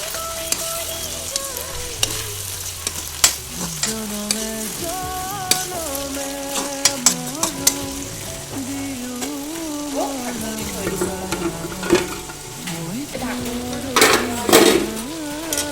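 Ginger and garlic fry in a pan while a utensil stirs and scrapes against the metal, with a steady sizzle under repeated clinks and knocks. Music plays throughout in the background.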